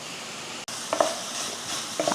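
Vegetable poriyal being stirred in a pan while lunch is cooked: soft broadband sizzle with a few scraping stirs of the spoon, a brief dropout near the start, no talking.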